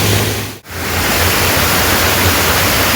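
Water pours down the Oliyathumpara waterfall at Mezhathur, a loud, dense, steady rush heard close up. The roar drops out in one brief dip, then returns unchanged.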